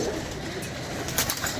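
Pigeons coo softly in a brief burst, low throaty calls close by against a faint background of rustling, with no voices.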